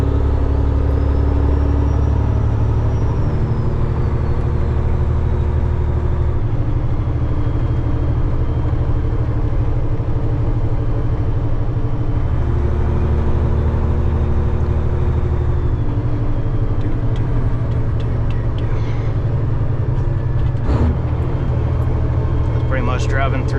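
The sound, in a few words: truck towing trailer driving in 7th gear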